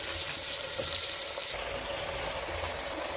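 Ridge gourd and tomato sautéing in a pan, making a continuous, fairly loud sizzle close by with soft stirring noises under it, and no speech.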